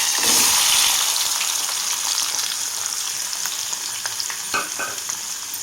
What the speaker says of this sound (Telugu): ఇప్పుడు దోసకాయ ముక్కలు కూడా వేసుకొని వేయించుకుందాము.